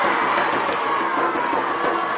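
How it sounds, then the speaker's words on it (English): Crowd at the Ulster Schools McCormack Cup final cheering and clapping in a dense, steady roar that stays loud through the short moment. "The crowd answered me."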